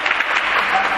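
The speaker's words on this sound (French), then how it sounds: "On l'applaudit." Classroom applause for a pupil, a short dense burst of many hands clapping together at close range, steady and bright from start to finish.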